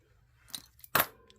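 A couple of quick, crisp scissor snips through paper, the last one louder, in an otherwise quiet room.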